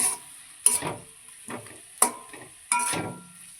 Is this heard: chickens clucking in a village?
no